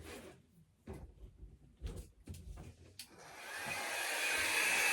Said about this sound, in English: I am going to blow this one out with the dryer so you can watch me.